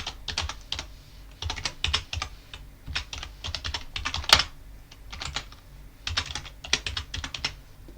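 Rapid keystrokes on a computer keyboard as a Linux terminal command is typed, coming in close, fairly loud bursts of clicks separated by short pauses, with one sharper tap near the middle and no voices.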